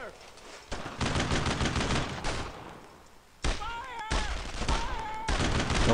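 Bursts of rifle and machine-gun fire laying down suppressive fire in Brothers in Arms: Road to Hill 30, loud rapid volleys in several clusters with short gaps, mixed with shouted voices.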